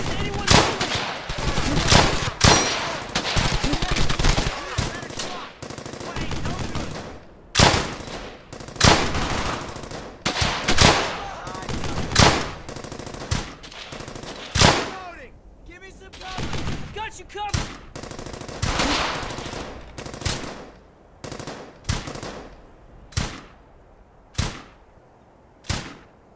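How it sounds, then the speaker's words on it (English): Machine gun suppressing fire from the Brothers in Arms: Hell's Highway video game rattles in loud, rapid bursts with sharp gaps between them, a dense stretch of gunfire giving way to spaced volleys. "Wilco, suppressing fire!"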